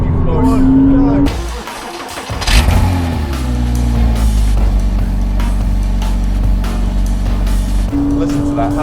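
A Porsche Cayman 987 engine howls and revs loudly on a race circuit, pitch climbing and settling through gear changes, close and continuous.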